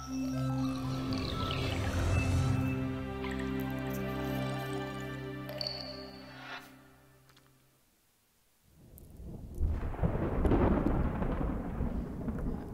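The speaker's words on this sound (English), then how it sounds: "Okay, thunderstorms." A thunderstorm in a music video: sustained musical tones fade out, then a loud, rushing roar of rain and rumbling thunder swells up.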